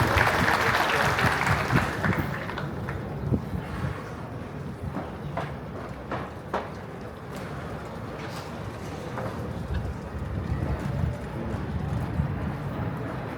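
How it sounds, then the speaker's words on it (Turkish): Crowd applause at a municipal ceremony as a mayor is invited on stage fills the first couple of seconds, then fades to quieter outdoor ambience with a few scattered claps. "Belediye Başkanımız Sayın Mehmet Erdem Kural alkışlarla sahneye davet ediyorum."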